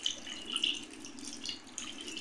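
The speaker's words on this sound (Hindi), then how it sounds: "1/2 गिलास के करीब पानी डालेंगे।" About half a glass of water is poured into a pan of browned aloo chicken curry, a soft, steady splash and trickle heard close and fairly quietly.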